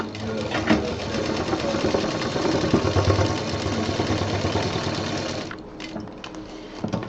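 A sewing machine running in one continuous, steady burst as it stitches the last corner of a handbag, whirring close and fairly loud before stopping near the end.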